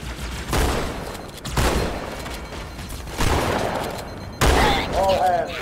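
Gunfire from Halo 2 comes in loud, sustained bursts, several heavy volleys each ringing off before the next, with a voice speaking between them.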